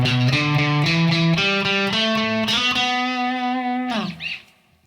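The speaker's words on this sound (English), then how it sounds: "if I double pick it, I'm gonna pick each note twice" Distorted electric guitar notes, each struck twice in quick pairs, moving through a short melodic passage before a final ringing note fades.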